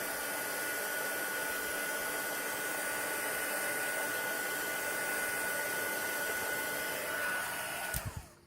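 A heat tool sets Brusho paint on a painting with a steady, close airy whir and faint hum, then it cuts off near the end with a brief clatter as it is set down.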